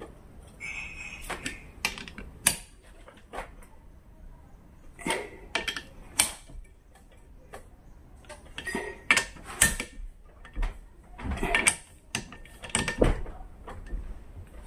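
Irregular metallic clicks and ratcheting taps from hand-tightening bolts on a Yamaha outboard motor, in short bursts with brief pauses, fairly close and moderately loud.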